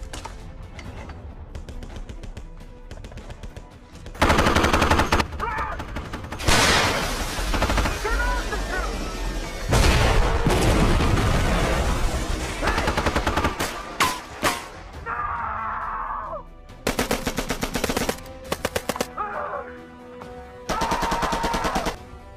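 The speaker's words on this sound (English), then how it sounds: "give us some cover fire." Sustained machine-gun cover fire in a sci-fi action firefight, with long rapid bursts and scattered heavy shots filling the scene, broken by brief pauses and layered over battle effects.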